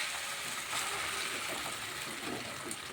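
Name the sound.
pouring juice into frying vegetable curry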